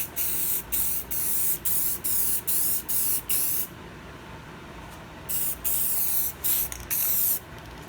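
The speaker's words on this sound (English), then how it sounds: "Just do a mist coat." A spray can laying down a light mist coat of paint, with a series of short, loud hissing bursts in a steady rhythm separated by brief pauses, close by and alone.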